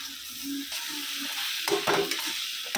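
Onion, tomato and vegetables sautéing in a pan, with a close sizzle and the scrape of stirring, plus a brief clatter of added pieces partway through and no speech.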